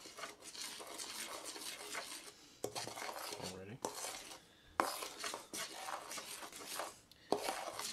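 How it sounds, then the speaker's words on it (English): A utensil scrapes and clinks against a bowl while stirring cookies and cream pudding mix, irregular strokes with brief pauses and a few sharper knocks, close and fairly quiet. "Now what you want to do is you want to stir this until all of the powdery mixture has dissipated down."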